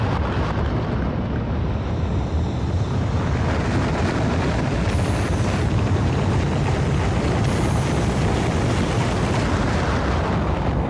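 Dense, continuous rumbling blasts of rockets exploding in the game Factorio, a loud roaring wash of booms with no pauses and no talk over it.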